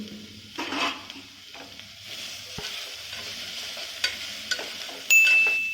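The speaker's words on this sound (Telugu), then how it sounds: "బాగా కలుపుకొని దోరగా వేగనివ్వాలి" Carrots, beans and other vegetables for veg pulao fry in a pan with a soft sizzle, while a spoon stirs them in intermittent scrapes and clinks and one brief sharper burst comes near the end.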